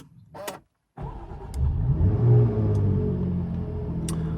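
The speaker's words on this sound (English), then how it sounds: "let's start up the supercharged V6 with the stop-start button down here" A Jaguar F-Type's supercharged V6 is started with the stop-start button. A brief starter whirr and a short silence come first, then the engine catches with a close, rising roar and settles into a raised, rumbling idle.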